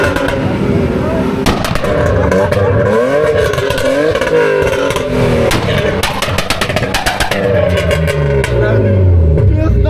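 A loud 1.6-litre car engine revs repeatedly up close, rising and falling, with clattering mechanical noise and people talking over it.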